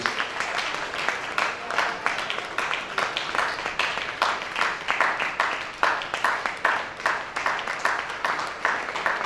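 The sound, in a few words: audience applause for the district chairmen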